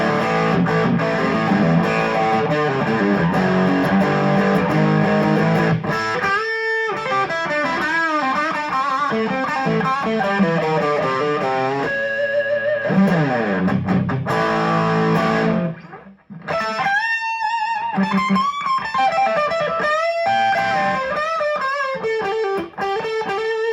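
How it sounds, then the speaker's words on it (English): Jarrett Zaffiro XJ electric guitar on its bridge pickup through heavy distortion, with no piezo, playing sustained crunchy chords and riffs that ring loud and close, with brief breaks partway through. "let's try the distortion, no piezo, and let's start with the bridge."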